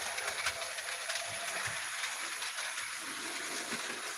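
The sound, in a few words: Bachmann Spectrum model steam locomotive running on track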